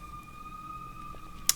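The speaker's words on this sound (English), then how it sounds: "Sorry for the sirens." A faint, steady emergency vehicle siren wails in the distance in Baltimore behind quiet background noise, ending with a brief sharp click.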